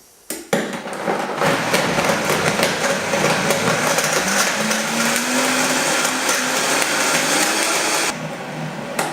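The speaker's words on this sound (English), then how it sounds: "what we're going to do is pop it onto the Vitamix. Any blender will do" A powerful Vitamix blender blending oats for oat milk starts with a jolt and roars steadily at full speed for several seconds, loud and close, then cuts off abruptly.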